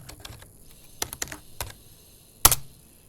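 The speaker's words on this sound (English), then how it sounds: "I'm going to type in" A computer keyboard is typed on close by, a short, irregular run of light key clicks ending in one louder tap, in an otherwise quiet room.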